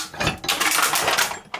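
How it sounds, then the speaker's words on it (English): An arbor press crushes a tin drinks can bit by bit, with close, loud metallic crinkling and crunching that ends in a sharp clink. "you can crush down bit by bit."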